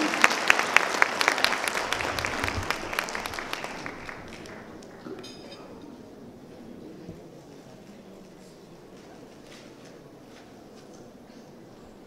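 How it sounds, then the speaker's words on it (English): A forum audience at a mining industry event gives a warm round of applause, loud and dense at first, then thinning into scattered claps that fade to a quiet room over about twelve seconds. "Let's give him a warm round of applause."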